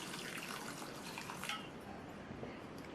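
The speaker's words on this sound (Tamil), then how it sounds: "காய் முங்குற அளவுக்கு தண்ணி சேர்த்துக்கங்க" Water is poured into a pot of cut snake gourd seasoned with turmeric and sambar powder, making a faint, steady splashing trickle with no talking.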